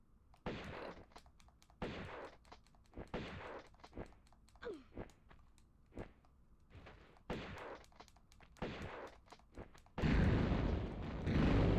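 Rapid bursts of gunfire from the Tomb Raider video game, heard as repeated sharp shots in clusters, loud and close, with a heavier roaring burst at the end and a player speaking briefly.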